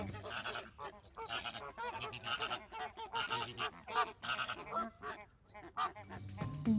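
A loud, busy chorus of honking bird calls, harsh and repeated in overlapping bursts, like a flock calling together up close.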